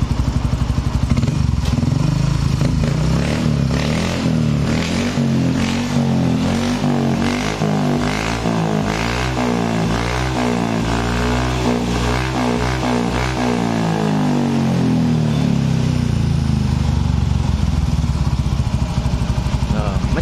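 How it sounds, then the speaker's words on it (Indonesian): A Yamaha Mio Soul GT 125 scooter engine runs steadily close by, idling and revving smoothly for a long stretch before winding down, while someone talks over it. "Mesinnya lembut, nggak ada ngelitrik,"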